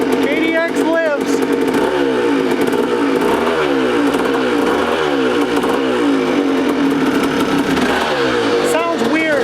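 A Kawasaki KDX dirt bike engine, suspected of running on bad gas, idles roughly and is blipped in rhythmic rev bursts. It is close and loud, with voices talking over it.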